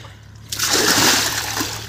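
Water gushes and splashes as it overflows from a trolley loaded with chickpeas being washed, starting abruptly after a short quiet hum and continuing as a loud, steady pouring splash.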